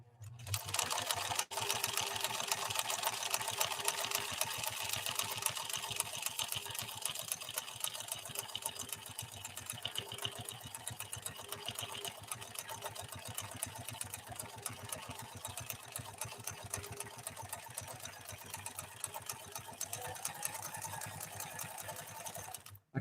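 A Pfaff 332 sewing machine stitches steadily through two layers of cotton with a stiffener, a dense continuous mechanical whir running without pause and fairly loud, with no voices.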